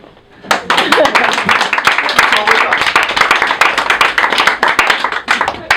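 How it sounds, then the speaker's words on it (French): Audience applause at a stand-up comedy show, starting abruptly after a short quiet moment and continuing as crisp, closely spaced claps from a lively crowd at fairly high volume. "On peut applaudir."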